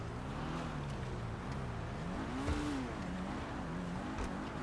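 A car engine revs in the GTA 5 video game, a continuous rising and falling whine with one sharper surge near the middle, heard alone without talk.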